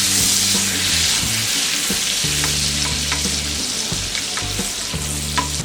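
Garlic frying in a pan while being stirred for creamy white sauce pasta: a steady, loud sizzle runs throughout, with spatula scrapes and stirring knocks repeating close by.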